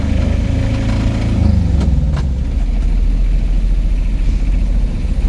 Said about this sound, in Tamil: செகண்ட் கியரில் வண்டி திணறுதுப்பா கொஞ்சம் கிளச்சு பிளேட்டு கொஞ்சம் மேலே இருக்குது